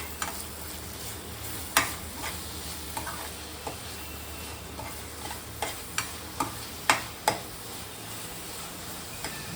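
Jaggery and grated coconut are stirred together in a pan for a Malvani sweet, a continuous soft scraping sizzle broken by a series of sharp spoon taps against the pan at uneven intervals, with no voices.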